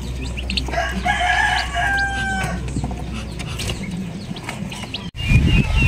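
Turkey hen and chicks cluck and peep up close in a continuous busy chorus with high chirps, and a louder burst near the end.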